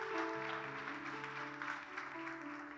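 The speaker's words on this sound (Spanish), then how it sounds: "Den un aplauso a Stevens" A church congregation claps for a member named Stevens, a short burst of applause heard under a sustained musical tone from instruments playing in the background.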